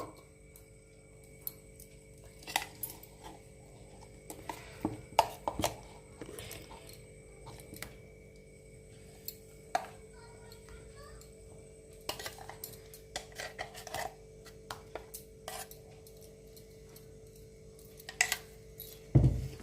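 A spoon stirs mango pulp into phirni in a pot, making scattered light clinks and taps against the metal over a low steady hum, with quiet stretches between the knocks.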